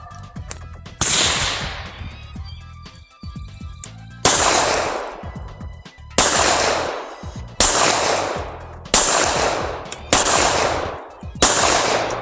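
A Walther PPK .380 ACP pistol fired at a shooting range, seven loud, sharp cracks spaced a second or two apart, each with a short echoing tail, heard alone without talk.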